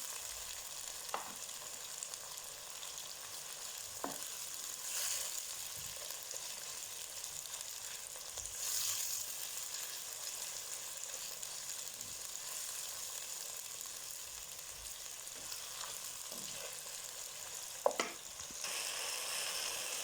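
Masala for matar keema dry-roasts in a pan with a faint, even crackle, punctuated by a few soft stirring clicks spaced across a long, quiet stretch.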